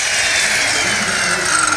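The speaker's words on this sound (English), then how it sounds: "big power saw." A big power saw cuts through wood in a renovation shop, a loud, steady, high-pitched whine that holds without a break.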